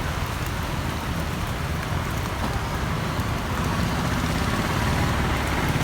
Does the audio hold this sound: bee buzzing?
no